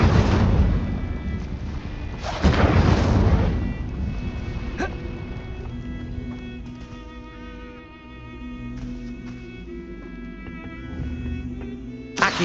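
Incendio fire spell cast in Hogwarts Legacy, a roaring whoosh of flame that swells twice near the start, then fades into a steady game ambience with faint tonal music.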